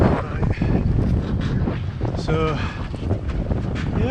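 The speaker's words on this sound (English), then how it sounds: "it's a breezy day" Breezy wind buffeting a sailboat at sea under autopilot with one reef in, a steady gusty rush across the microphone, with someone talking briefly over it.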